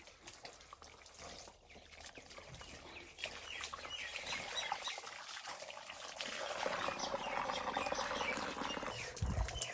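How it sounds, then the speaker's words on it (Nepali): Cold tap water runs and trickles steadily while clothes are washed by hand outdoors, the flow growing louder and fuller toward the end, with no talking. "यहाँ पानी यसरी आइरहेको छ"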